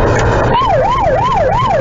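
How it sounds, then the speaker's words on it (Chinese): A police car siren sounds during a chase after a speeding white car that ran red lights. The loud, close electronic wail rises and falls in regular cycles after a brief moment of traffic noise. "警车一路鸣笛，但白色轿车实在开太快。"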